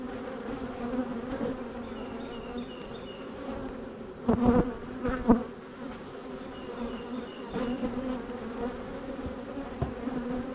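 Honey bees buzz steadily around a hive where wax is being scraped from the top, a continuous droning hum with a few louder passes close by near the middle.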